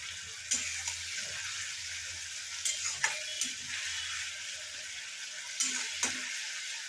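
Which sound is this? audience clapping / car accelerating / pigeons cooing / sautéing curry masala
sautéing curry masala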